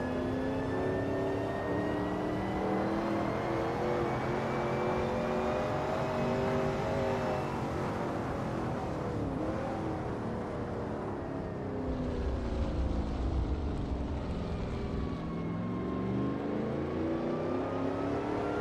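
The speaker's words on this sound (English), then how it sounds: "the sounds of cheering fans should just barely be audible over the roar of the engine" A Shelby Cobra 351 in a racing video game roars steadily at the Bridgehampton circuit, its engine pitch sliding up and down through gear changes and turns, loud and continuous with no voices.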